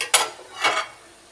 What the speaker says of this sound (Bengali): এখন এই ঢাকনাটা দিয়ে একটু ঢেকে দিব।